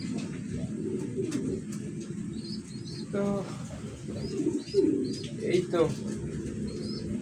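Pigeons coo in soft, low, throaty phrases at close range, with occasional chirps and faint wing flutters, while a person speaks briefly over the birds.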